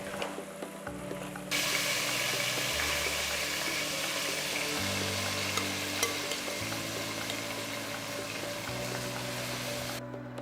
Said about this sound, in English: Add the marinated vegetables into the pot. Saute the vegetables for about 5 minutes.